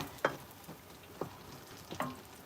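Mushrooms fry in a pan with a soft, continuous sizzle, broken by a few sharper stirring clicks and pops spaced across the moment, with no voices.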